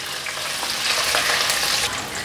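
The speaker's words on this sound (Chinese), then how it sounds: "把油加热，放入芹菜、姜片、2个八角，还有1/4茶匙的花椒粒，把香料炒香。" Celery, ginger slices, star anise and Sichuan peppercorns fry in hot oil with a loud, dense, continuous hiss and sizzle and a few brief stirring scrapes.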